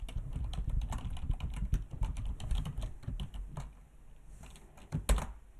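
Steady typing on a computer keyboard while writing code in a Python notebook, with rapid uneven keystrokes close by and a few louder taps near the end, no voices.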